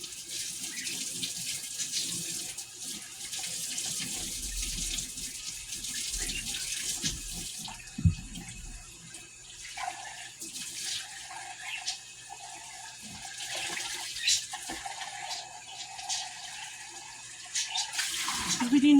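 A jar gets a thorough rinse under a running kitchen tap, with steady water hiss, shifting splashes as the jar is turned, and a few clinks and knocks.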